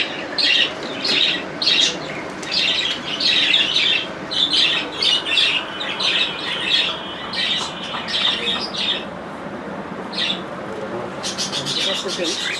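Pet birds squawking and chirping in rapid, shrill bursts while eating, near and fairly loud, with a voice talking underneath throughout.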